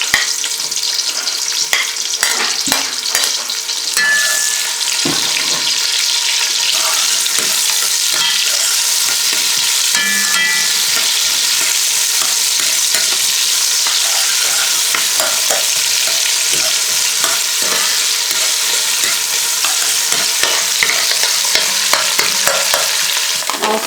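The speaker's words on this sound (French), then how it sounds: "Un peu d'huile dans la marmite. D'abord, je fais revenir les oignons." Onions fry in oil in a cooking pot while being stirred, a loud steady sizzle with scraping stir sounds throughout.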